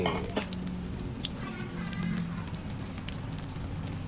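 Chicken feet frying in hot oil, a continuous crackling sizzle with scattered pops and spits, close and steady, no talk over it.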